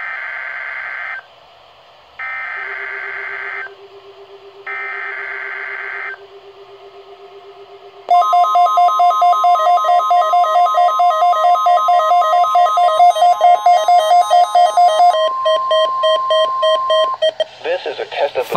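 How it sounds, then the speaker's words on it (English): An EAS weather radio alert activates: a few evenly spaced bursts of data tones over a low hum give way to a loud, steady two-tone attention signal that holds for about ten seconds before cutting out. "Finally you activated, you little alarm"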